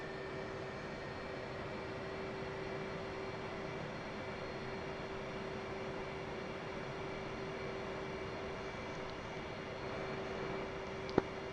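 An F/A-18C's jet engines spool up before takeoff in a flight simulator, producing a steady, even turbine drone with a constant whine and a single brief click near the end.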